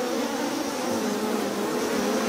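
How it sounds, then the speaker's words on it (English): Agitated honeybees in a hive, a dense continuous buzzing drone, loud and close, with no talk. "So this hive right now is a little bit agitated."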